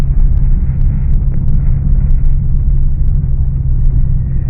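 Citroën C5 Break 2.0 from 2002 with a faulty automatic gearbox stuck in third, driving along: a loud, constant low engine and road rumble with wind buffeting the microphone, no talking.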